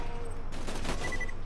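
Rapid bursts of gunfire from the Borderlands 2 video game crackle loudly, a dense fusillade of shots in the middle with a brief electronic tone near the end and no speech.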